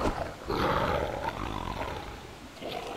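A werewolf troll roaring in the video game Castlevania: Lords of Shadow, a loud sustained growling roar lasting several seconds, close and dominant.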